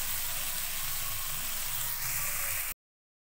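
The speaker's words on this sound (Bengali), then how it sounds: "মশলাটা আমার ভাজা হয়ে গেছে" Masala spice paste with salt frying in oil in a pan as the fish curry base, giving a steady, close, dense sizzle with a faint stirring undertone, then cutting off abruptly near the end.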